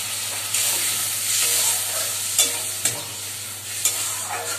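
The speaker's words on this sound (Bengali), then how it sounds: "তো দেখো আমার মশলা কষানো হয়ে গেছে" Ginger with cumin, chili and turmeric powders fries in a pan, a continuous sizzle and hiss broken by several sharp scrapes and taps of a spatula as the masala is stirred, close and fairly loud.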